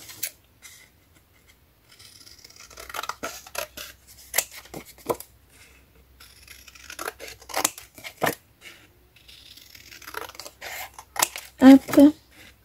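Scissors snip through paper for a safari-savanna scrapbook album, a few sharp crisp cuts and rustles spaced out close by, mixed with quiet handling noise and soft talking.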